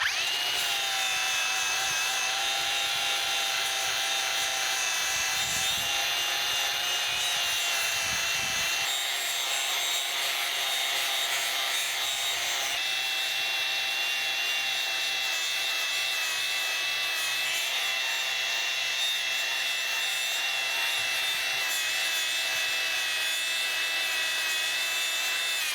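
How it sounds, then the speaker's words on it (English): Angle grinder fitted with a surface conditioning flap disc strips paint from a worn Caterpillar excavator, giving a steady, loud high-pitched whine with a gritty abrasive rasp that holds for the whole stretch. "They call it a surface conditioning flap disc."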